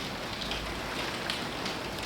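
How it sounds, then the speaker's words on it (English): Heavy rain pours outside in a steady, dense hiss with scattered patters, heard from indoors at a modest level with no voices. "I looked out the window and it started pouring, and you probably can still hear the rain"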